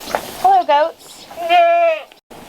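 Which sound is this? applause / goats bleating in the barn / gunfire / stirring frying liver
goats bleating in the barn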